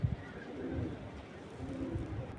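A pair of tiger grizzle racing pigeons coos softly, with low, murmuring calls rising and falling continuously close by.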